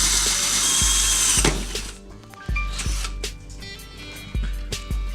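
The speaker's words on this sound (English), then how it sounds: "After you make your hole with your drill" A power drill bores a hole through a plastic paintball pod: a high whine at first, then bursts of grinding and chattering with short pauses, close and clear.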